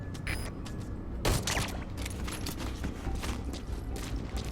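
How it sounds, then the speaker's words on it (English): A gunshot fired in the video game Metal Gear Solid V, one sharp loud crack near the middle of the clip standing out over steady mechanical clatter and ambient game noise. "that is a raw gunfire shot, which means that they now know I'm here"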